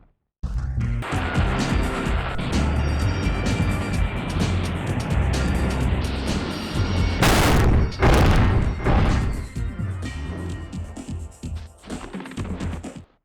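Rockets exploding in the video game Spyro 3: Year of the Dragon, a dense, loud stretch of game sound with sharp blasts around the middle and rumbling effects running throughout.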